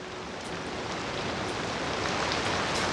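Steady, dense rain hisses without a break in the city-building game Cities Skylines II, an even wash of noise with faint scattered drop ticks and no voices.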